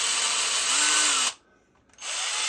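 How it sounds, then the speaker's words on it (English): A power drill whirs steadily as a drill bit is fitted, cuts out for about half a second, then spins up again, close and clear. "All I'm doing is putting the drill bit on."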